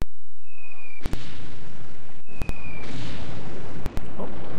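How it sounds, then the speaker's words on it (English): Artillery shells striking a freighter in the strategy game Supreme Ruler Ultimate: a loud, continuous roar of blasts and rumbling impacts, broken by three sharp clicks or brief cutouts, with a faint whistling streak overhead. "Heard some artillery hit it as well."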